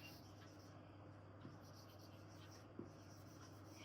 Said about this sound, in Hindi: अब मैं एक और सेंटेंस लिखती हूँ